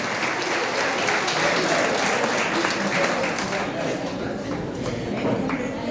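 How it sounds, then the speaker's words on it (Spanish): An audience at a gala dinner applauds in a dense, sustained wash of clapping that holds steady throughout, with talk faintly mixed in. "¡Fuerte el aplauso!"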